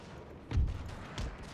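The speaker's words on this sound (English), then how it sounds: "They're running into gunfire." Musket volleys in the Napoleonic-era strategy game Napoleon Total War: two muffled, booming bursts about half a second apart, moderately loud against a low battle rumble, with no talk over them.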